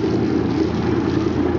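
A classic inboard boat engine runs on a fake lake while warming up, a loud, continuous droning rumble that holds steady and is heard alone.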